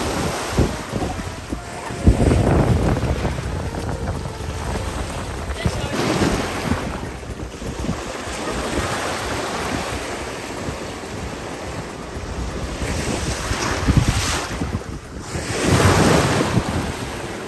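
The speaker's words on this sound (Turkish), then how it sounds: "Şimdi denizin rengi ve dalgalar." Sea waves surge and break on a Dominican Republic shore, loud and close, with rolling swells cresting and washing in repeatedly under heavy gusts of wind buffeting the microphone.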